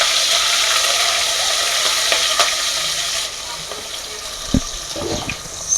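Chopped onions and green chillies fry in hot oil for a chicken curry, giving a loud, dense, continuous sizzle up close, with a few brief clinks and stirring knocks late on.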